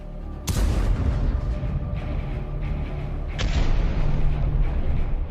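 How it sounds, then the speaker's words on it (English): Ukrainian tank firing at a Russian infantry fighting vehicle: two sharp, heavy booms about three seconds apart, each followed by a rolling rumble, with no voices. "Meanwhile, the second tank fires,"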